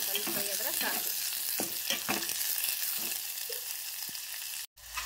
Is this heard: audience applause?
no